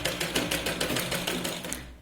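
A sewing machine stitches Katori blouse fabric in a fast, even run of close mechanical clacks, loud and steady, slowing slightly before stopping at the end.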